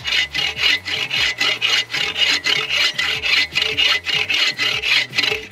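Steady hand sawing through wood, about twenty rhythmic back-and-forth rasping strokes, close and loud, with no voices.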